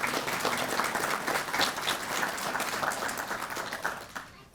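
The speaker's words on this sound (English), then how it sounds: "So give yourselves a round of applause for the support you give to our members." A round of applause at a police department promotion and swearing-in ceremony, steady crowd clapping that holds evenly before fading out abruptly at the close.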